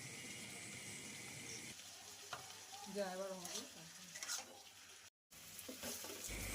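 Arum stems fry in a pan with salt and turmeric, hissing and sizzling steadily while a spoon stirs them with soft scraping. The sound cuts out briefly near the end.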